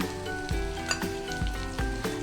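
Water bubbles and hisses steadily at a rolling boil in a pot, with a few soft thuds recurring roughly every half second.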